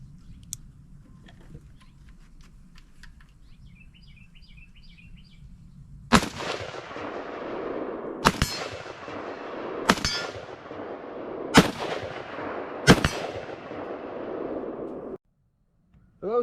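A Galil rifle, Israeli with wood furniture, fires five loud, sharp single shots spaced one to two seconds apart, each ringing with a metallic decay, after a quiet stretch of faint background noise.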